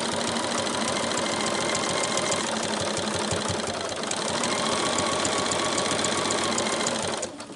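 Sewing machine stitching a quilted advent calendar panel, a fast steady mechanical whirring and rhythmic needle chatter, close and loud with no talking, that slows and stops near the end.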